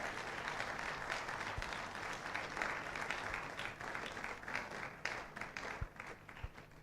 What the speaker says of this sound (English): let's give a round of applause to our guest speaker